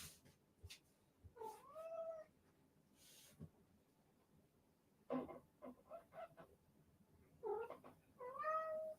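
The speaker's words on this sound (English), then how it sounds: "My cat keeps thinking I'm talking to him and he's freaking out." A cat meows and yowls in agitation, several separate drawn-out wavering cries spread across the moment, fairly close and loud against a quiet room.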